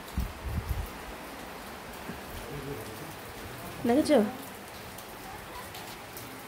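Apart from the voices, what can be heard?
heavy rain falling outside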